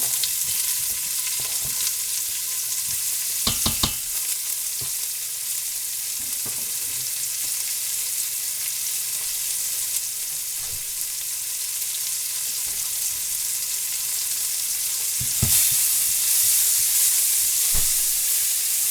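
Onion frying in a pan, a steady bright sizzle with occasional stirring clicks and scrapes, close and continuous with no talking.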